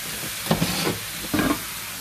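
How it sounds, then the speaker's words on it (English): Onions dropped onto cooked pork in a hot pan for Portuguese bifanas, giving two short bursts of sizzling and stirring over a steady low frying hiss, fairly close and with no talking. "Now I'm going to add the onions right on top."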